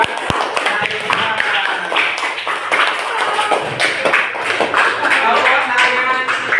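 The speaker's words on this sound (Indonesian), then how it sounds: "kasih tepuk tangan buat Naima" A class of children clapping their hands together in a classroom, a loud, busy patter of many small hands with a few sharp taps, while voices chatter over it.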